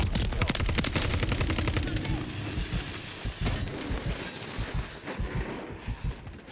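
Enemy gunfire in the shooter game XDefiant comes as rapid, loud automatic bursts at the start, then thins into scattered shots and thuds among other battle noise.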